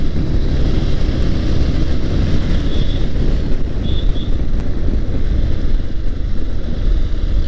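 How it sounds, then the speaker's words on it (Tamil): Steady, heavy wind on a hill road in Kolli Hills roars and buffets the microphone throughout, a constant low rumble with no pauses. "இந்த காற்று இன்னும் பயங்கரம்."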